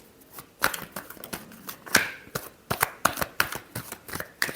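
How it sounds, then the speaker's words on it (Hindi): Tarot cards being shuffled by hand, close up, in a quick run of crisp riffling bursts and soft slaps, about a dozen in irregular rhythm; no talking. "Last shuffle."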